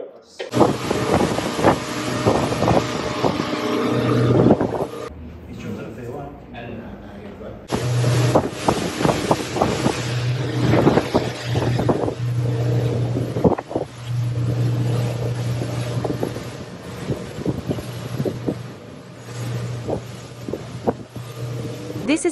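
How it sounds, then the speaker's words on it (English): A Water Police motorboat engine drones steadily with wind buffeting the microphone, briefly dropping out partway before the engine hum returns. "the Water Police boat is on site"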